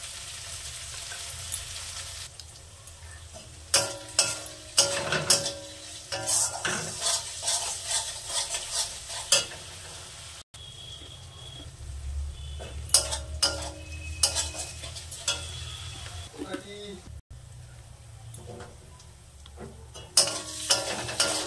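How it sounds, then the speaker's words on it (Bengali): Spice paste of tomato and salt frying in a pan while a spoon stirs and scrapes, bursts of sizzling and metal clinks recurring irregularly, close and moderately loud with no talking. "আমি এবার এই মশলাটাকে সুন্দর করে কষে নেব।"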